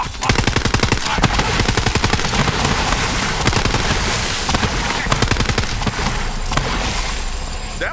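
Rapid automatic gunfire in Borderlands 3, a dense, continuous rattle of shots fired against bandits, loud and nearly unbroken, with faint voices behind it.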